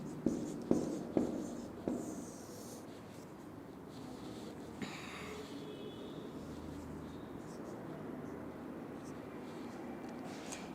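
Marker or chalk writing on a board during an organic chemistry lecture: a few sharp taps and short strokes at the start, then a long stretch of faint scratching, with a soft background hiss and no clear talk.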